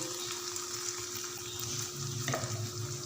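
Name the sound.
spices frying on a low flame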